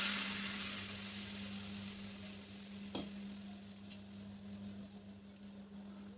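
Milk goes into a pan where bread is toasting in ghee, giving a faint, steady sizzle with a low hum and one brief clink near the middle.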